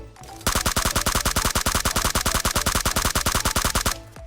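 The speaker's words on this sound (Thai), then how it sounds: "อันเนี้ยผมจะลองยิงให้ดูนะครับ อันนี้เก็บเสียง" A suppressed gun in PUBG Mobile fires one long, steady full-auto burst of rapid, evenly spaced shots lasting several seconds, loud and close with no talking.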